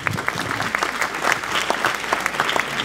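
An audience at a Future Energy New York pitch event applauds a presenter named Elon, a dense, steady patter of many hands clapping throughout, fairly close and loud, with no voices over it.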